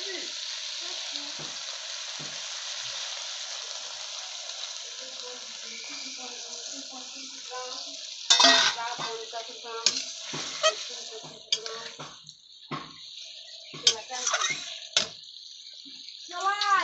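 Water is splashed into a pan of frying snail curry in a village kitchen, followed by sharp bursts of sizzling and spattering over a steady background hiss.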